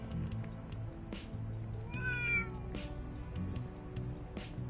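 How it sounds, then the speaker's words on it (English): A cat meows in the video game Trails Through Daybreak, a short rising and falling cry heard clearly over a steady soft background music bed and ambient game sound, with no talking. "There's that cat I was wondering about."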